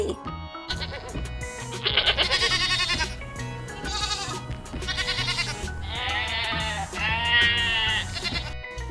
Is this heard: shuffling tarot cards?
no